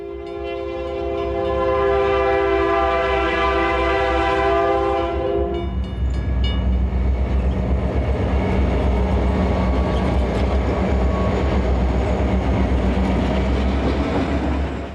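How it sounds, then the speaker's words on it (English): A train horn blares in a long chord, then a pair of GP39E diesel locomotives with a GP30 in the middle rumble past loudly in Minnesota with the steady clatter of freight cars rolling by. "waits for a Grand Forks train to pass. It's being pulled by a pair of GP39Es"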